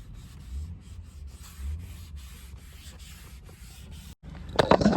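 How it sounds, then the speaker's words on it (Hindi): Foam applicator rubs 3M dashboard polish onto a car dashboard, close soft scrubbing strokes in a repeated back-and-forth rhythm, briefly pausing before a louder burst of rubbing at the end. "इस तरीके से ढंग से उसको रब करना है अच्छे से फोम से"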